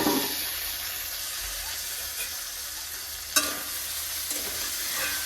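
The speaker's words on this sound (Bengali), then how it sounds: "দেখো আমি এদিকে করলা ভাজা বসিয়ে দিয়েছি" Bitter gourd slices fry in a pan with a steady, close hiss and sizzle of hot oil throughout. A single sharp clink of a utensil breaks in partway through, and no one speaks.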